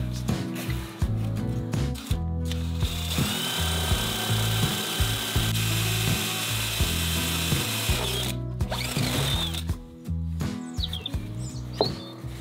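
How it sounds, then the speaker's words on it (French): A drill bores a hole for electrical cable runs, producing short, pulsing mechanical bursts with a ratcheting, stuttering rhythm, up close, ending with a few scattered knocks. "Je vais essayer de percer comme ça."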